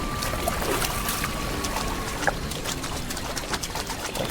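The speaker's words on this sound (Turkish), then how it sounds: "Bu şelale." A waterfall in the video game Perilous Hearts gives a steady, moderate trickling and splashing wash, with small drips and pours running the full length, alone.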